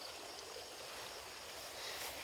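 Water drains steadily out of a rice paddy in a continuous rushing trickle, close and even throughout with no other sounds.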